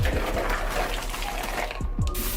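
Cooked shrimp with its liquid poured into a bowl, a steady close splashing pour running throughout with a few thumps and knocks of the food and container.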